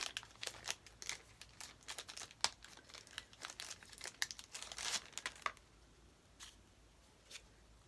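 Dollar Tree packs of trading cards being opened, with close crinkling and tearing of foil wrappers in quick bursts over about five seconds, then a few sparse crinkles near the end.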